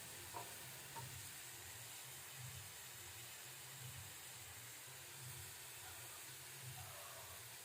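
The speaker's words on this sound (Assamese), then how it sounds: "এতিয়া এইখিনি ভালকৈ মিহলাই লৈছোঁ, নিমখ হালধিখিনি।" Fish curry with salt and turmeric is stirred in a pan, with soft scraping strokes at an irregular rhythm over a low, steady sizzle and hiss, faint and close.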